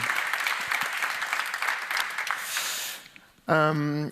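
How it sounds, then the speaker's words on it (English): Round of applause from an audience at a panel event on hunger and conflict, steady clapping for about three seconds that fades out before a short loud burst of tones or a voice. "There's a big round of applause here for you"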